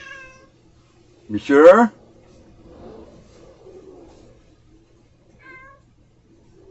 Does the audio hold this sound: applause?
no